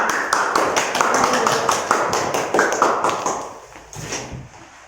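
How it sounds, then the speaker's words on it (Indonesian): A classroom group claps for fellow students, a close, dense burst of hand claps that gradually thins and fades toward the end. "Beri aplaus untuk kelompok 2"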